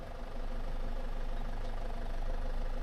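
A car engine held on the handbrake in first gear as the driver gives it gas, a steady, fairly loud mid-range drone that holds nearly constant with little rise or fall.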